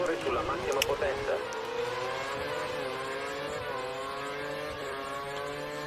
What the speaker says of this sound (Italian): il motore sulla massima potenza.